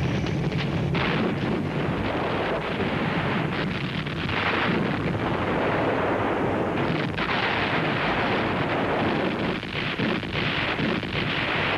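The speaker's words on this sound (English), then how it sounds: "pre-dawn artillery barrage, the panzers roll across the Russian border on June 22, 1941." A pre-dawn artillery barrage from the June 1941 Operation Barbarossa invasion of Russia, a dense, continuous rumble of distant guns and blasts that roars steadily throughout without pause, no voices over it.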